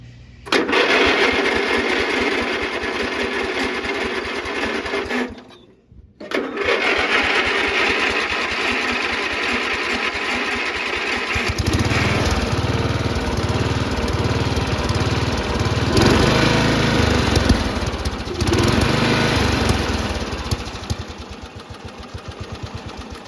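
Riding lawn mower engine cranking and catching after a brief pause, then running steadily and loudly with a rough, low throbbing idle that persists to the end.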